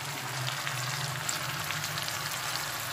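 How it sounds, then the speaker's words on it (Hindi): Masala of onion, tomato paste and spices frying in a pan, giving a steady close sizzle with a soft crackle and a low hum underneath, no voices. "अब इसको हम भून लेते हैं। ये देखिए मसाला भून रहा है"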